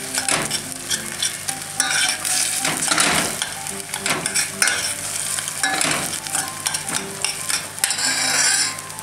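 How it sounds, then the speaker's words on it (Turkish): Onion and paste sizzle and crackle continuously and close, frying in a pan for soup sauce, with occasional stirring scrapes and clinks of a utensil. "Soğan içine ikisini kızartıyorum."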